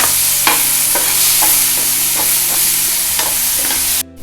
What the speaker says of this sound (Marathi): दोन मिरच्या घालणार आहे ते थोडं परतून घ्यायचं आहे आपण